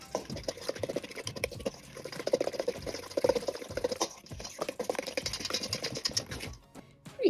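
Banana bread batter of mashed banana, yogurt, eggs and vanilla being stirred in a bowl, with close, steady scraping and sloshing strokes that continue without pause and with no talking.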